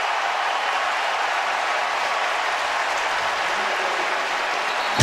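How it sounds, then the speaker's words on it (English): A loud, steady roar of a large stadium crowd at a 2011 Arkansas at Alabama college football game fills the whole stretch, a continuous wash of distant cheering and murmur. "Crowd here can get a little noisy."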